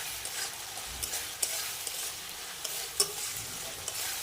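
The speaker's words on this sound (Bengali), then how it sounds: "এখন দিয়ে দেবো ফুলকপি আর আলুটা" Pre-fried cauliflower and potato pieces hiss and sizzle in a pan as they are stirred, a steady high crackle with a few sharper clicks, close and moderately quiet, with no voices.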